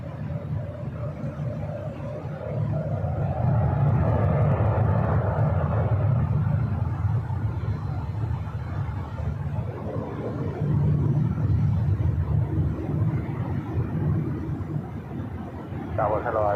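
An airliner takes off from runway 24 Left at LAX, its engines building into a loud, sustained roar that swells and holds before easing slightly, with faint radio chatter at the end.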